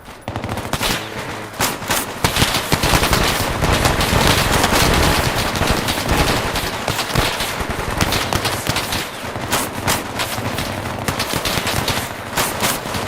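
Sustained SAW machine gun fire in a tactical military video game, loud dense bursts overlapping continuously with scattered rifle shots throughout, no pauses, no voices.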